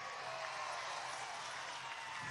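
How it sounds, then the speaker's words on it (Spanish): Faint, distant crowd applause at a PSUV political rally in Anzoátegui state, a steady broadband patter with no individual claps standing out and no speech over it. "Denle un aplauso pues."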